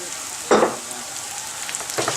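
Rice and fresh herbs, including cilantro, being stirred in a frying pan for stuffed grape leaves, giving a soft sizzle with a couple of brief scraping stirs, close and alone.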